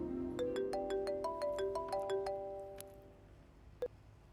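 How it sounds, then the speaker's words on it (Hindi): A phone rings with a repeating electronic melody of bright tones, then it stops and a single click follows. "देखो किसका फोन है।"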